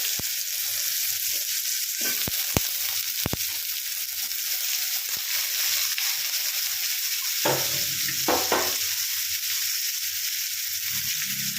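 Potato pieces cut small like for posto sizzle steadily in a pan for an aloo jhinge tarkari, with a few sharp scraping stirs near the middle and a louder clatter of stirring toward the end.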